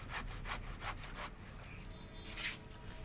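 A boti blade cuts through the thick base of a giant taro stem in a string of close, rasping strokes, one fuller stroke near the end, with no talking.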